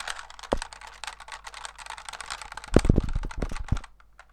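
X and Z keys tapped rapidly on a computer keyboard during an Undertale game, giving a dense run of close clicks that swells into a louder, quicker burst of keystrokes near the end.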